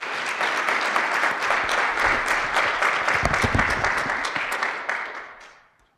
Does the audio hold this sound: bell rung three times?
no